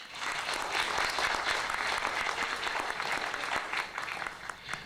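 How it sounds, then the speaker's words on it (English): Steady applause from a seated audience at a senior women's pageant in West Los Angeles, many hands clapping together at moderate volume for about five seconds. "Let's have a nice round of applause for Gloria Davis coming back on the stage"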